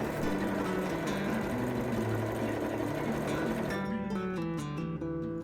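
A sewing machine runs continuously, hemming the sleeves and bottom edge of a shirt with a steady mechanical whir that breaks into quicker, choppier stitching bursts near the end, with no talking.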